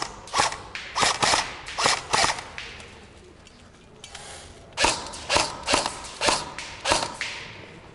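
Gunfire in CS:GO snaps out in sharp, evenly spaced shots, a run of about six, a short lull, then another run of about six, crisp and fairly close.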